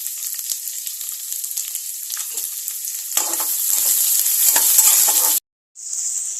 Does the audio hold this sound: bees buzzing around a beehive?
no